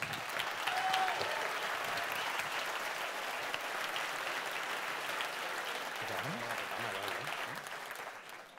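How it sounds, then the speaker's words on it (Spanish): Sustained applause from an audience at a popular science talk, dense and steady throughout and fading slightly at the end, with a faint voice briefly audible underneath. "Por favor, fuerte aplauso."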